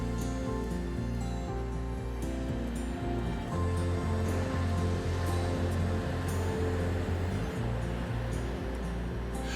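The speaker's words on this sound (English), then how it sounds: "enjoy the sound of the ocean" Ocean surf rolls along the driftwood-strewn seashore of Olympic National Park, a steady, full roar of breaking waves under a low droning hum, with no voices.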